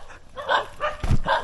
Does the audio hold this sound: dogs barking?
yes